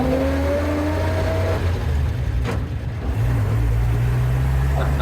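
A 1938 Chevy 38HC pickup with a straight-six engine and three-speed manual drives along, its low engine drone steady and close, with a brief shift in tone midway as the gear changes.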